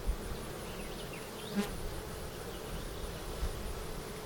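Honeybees in an opened, smoked hive, a soft continuous buzz close by with occasional louder passes as individual bees fly near.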